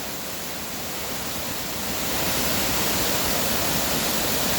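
Laurel Falls in the Smokies, a waterfall with a dense, steady rushing roar heard from close by on a bridge, growing slightly louder partway through.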